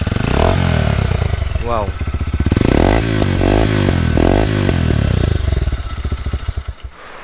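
A TARO GP1 V3 motorcycle with its stock engine revs loudly up close, rising and falling in repeated throttle blips before settling into a rough idle, while a voice briefly exclaims.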